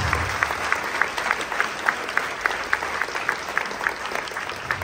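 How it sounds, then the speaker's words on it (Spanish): A congregation at a healing and deliverance church service claps in a steady, rhythmic beat, moderately loud and continuous, with faint crowd murmur beneath. "Fuertes aplausos"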